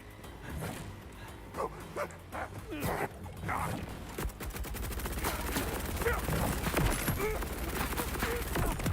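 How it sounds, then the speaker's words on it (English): Rapid bursts of automatic gunfire from a Torque sticky gun in a video game crackle in uneven volleys, mixed with other game sounds and brief yelping noises. "It sounds like you're using a Torque sticky gun."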